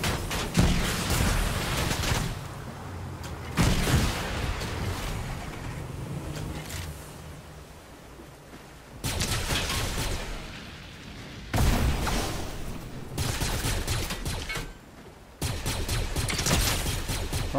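Fortnite gunfire during a hunt for damage points: repeated bursts of shots and booming impacts in loud clusters separated by quieter stretches, with no voices over it.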